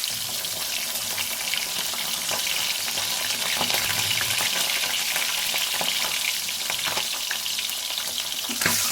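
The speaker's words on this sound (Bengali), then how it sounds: "তেল গরম হয়ে গেছে এবার মাথাগুলো এক এক করে দিয়ে দেবো" Rohu fish heads fry in hot oil, producing a dense, constant loud sizzle with faint occasional clatter, close by and without speech.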